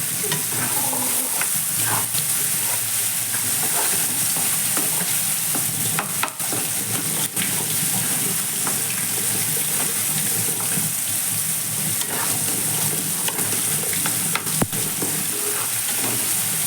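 Egg paneer frying in a pan, giving a steady, close hiss and crackle of hot oil with occasional stirring clicks, continuous and even for the whole stretch with no talking.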